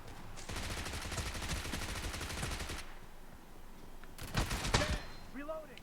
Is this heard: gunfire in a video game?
yes